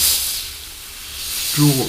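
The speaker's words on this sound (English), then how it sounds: "we start with the bigger area first and just spray" An airbrush sprays paint onto a Revell 1/72 Lancaster model kit, giving a steady, close, continuous hiss, and a brief voice breaks in near the end.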